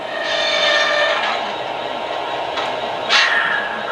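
An SD70ACe locomotive in a train simulator game makes a steady, broad hissing and rushing roar during emergency braking, with a sharper burst of air release near the end. There is no talking.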